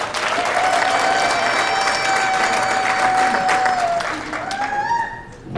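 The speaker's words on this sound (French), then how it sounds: "Applaudissons pour nous-mêmes" A crowd at a cultural day gathering in Washington DC applauds loudly and continuously, with cheers and a steady tone over it, fading slightly near the end as voices come through.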